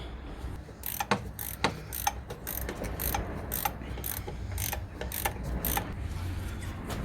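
A spanner ratchets on engine bolts of a Land Rover Freelander during timing belt and water pump work, with a run of sharp clicks in short, uneven bursts, close and clear over faint background noise.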